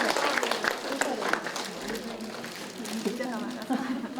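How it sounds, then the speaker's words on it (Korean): Audience clapping at a 2020 Hanla Ilbo literary awards ceremony, heard as a brief burst of applause mixed with a voice speaking over it, the clapping thinning as the talk continues. "여러분 큰 박수로 축하해 주시기 바랍니다."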